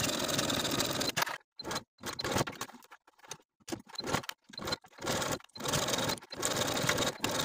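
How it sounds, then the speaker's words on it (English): A sewing machine edge stitches close to the inner fold of a fabric ruffle, running in bursts with brief stops between them. The motor whirs steadily and close by, with no talk. "for all of these ruffles, we're going to edge stitch all the way around close to the inner fold"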